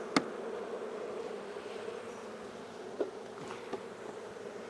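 Honey bees hum inside a failing beehive's bottom deep box, a steady close buzzing drone with a few faint clicks and knocks scattered through it.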